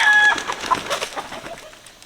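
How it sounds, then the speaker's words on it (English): A few chickens cluck and squawk in quick, uneven bursts close by, with a brief higher call near the start, all over within a couple of seconds on a rural homestead. "Whoa, chickens!"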